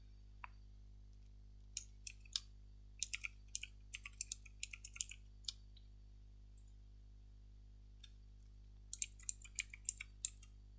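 A username and password typed on a computer keyboard: scattered quiet key clicks in short bursts, with pauses between, over a steady low electrical hum, no voices.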